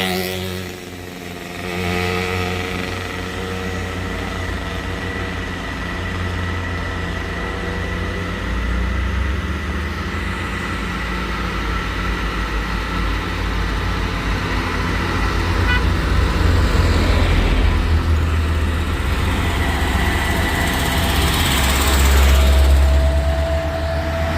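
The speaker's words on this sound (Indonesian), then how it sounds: "Fuso truk 6x2 muatan 30 ton." Heavily loaded Fuso 6x2 trailer truck carrying a 30-ton load grinds up a steep hill, its diesel engine droning low and steady, swelling louder toward the end with passing traffic around it.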